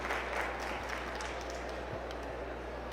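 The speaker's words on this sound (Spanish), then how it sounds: "Denle un aplauso, por favor." Applause fills an auditorium after a medical lecture on hospital malnutrition in Mexico, a steady clapping crowd over a low constant hum, lasting a few seconds without letting up.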